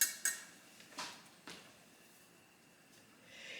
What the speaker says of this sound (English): I'm just going to whisk them around a little bit